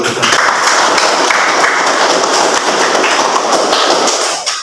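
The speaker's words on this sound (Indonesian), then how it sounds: "Kita tepuk tangan dulu" A classroom of vocational high school students claps hands together at the close of a lesson, a dense, steady patter of many palms filling the room nearly throughout before tapering off at the end.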